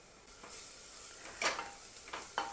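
Ginger-garlic paste sautéing in hot oil in a pan for mutton chops: a steady soft sizzle with a few brief stirring scrapes, close by, with no voices.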